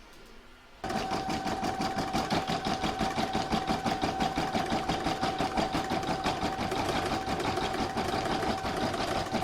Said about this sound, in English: I'm now going to pop that back in my machine and stitch round number 8, which is going to do the decorative satin stitch all around the border.